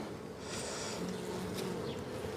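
Honey bees buzz steadily around an open beehive during hive inspection, a dense, continuous hum close by with no voices.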